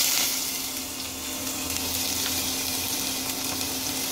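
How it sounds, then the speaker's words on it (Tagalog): Ginger and garlic sizzle and fry in hot oil in a wok on high heat, a steady, fairly quiet hiss that carries on without a break and without voices. "Heat oil. Walk and saute ingredients B. Add marinade ingredients to walk. Fry on high heat."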